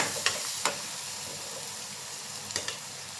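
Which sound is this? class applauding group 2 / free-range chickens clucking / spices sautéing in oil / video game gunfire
spices sautéing in oil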